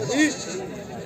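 A single short goat bleat, from a Barbari crossbreed at a goat market, rises and wavers near the microphone, followed by a faint murmur of background noise.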